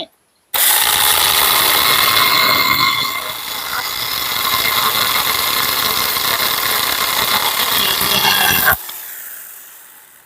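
A power saw cuts steadily through hard wood for about eight seconds, loud and close, then cuts off abruptly.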